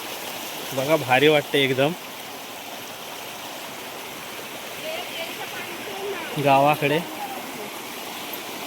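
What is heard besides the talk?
babbling village stream flowing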